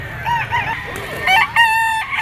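An eight-month-old yellow-legged straight-comb stag rooster crows at a poultry seller's, with tonal calls rising and falling over a low background rumble and a clearer, louder crow near the end.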